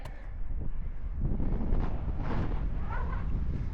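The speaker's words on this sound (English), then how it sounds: "The whole reason I avoided coming this way was that wind." Strong wind gusts buffet the microphone outdoors at Matukat Rocks, a rough, rumbling roar that swells and eases unevenly over a few seconds, with no one speaking.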